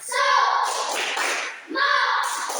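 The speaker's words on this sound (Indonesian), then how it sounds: "Tepuk semangat dulu." A classroom of children does a rhythmic spirit clap (tepuk semangat), loud bursts of clapping with voices chanting along and a short pause before the clapping starts again.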